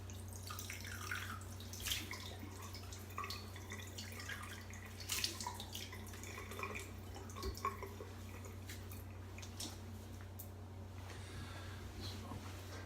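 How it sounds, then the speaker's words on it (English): Water splashing as alum is rinsed off a face after shaving, faint scattered splashes and drips over a low steady hum, with no talking. "And while I rinse off the alum."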